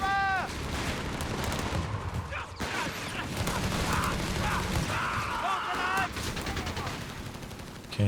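Gunfire and explosions crackle and boom through a Company of Heroes 3 battle, with dense bursts of shots and heavy impacts, while a voice talks over the action.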